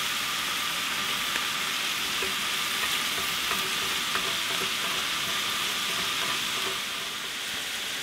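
Carne asada steak sizzles and fries steadily at a camp cookout, a dense, continuous crackling hiss with faint scraping taps from stirring, loud and close throughout.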